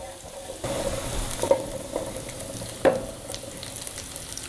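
Three cloves of minced garlic frying in hot pork lard make a soft, close sizzle, broken by a couple of sharp clicks from a utensil against the pan.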